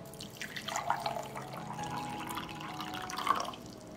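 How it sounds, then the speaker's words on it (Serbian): Lukewarm water poured over carrot seeds in a glass, a short close trickle with light splashing and a faint ringing of the glass, quiet and alone. "Seme ću preliti sa 2 deci mlake vode."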